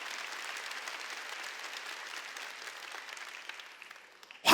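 A church congregation claps together during an Easter Sunday worship service, a steady broad wash of applause that slowly thins and fades near the end before a sudden loud burst at the very close.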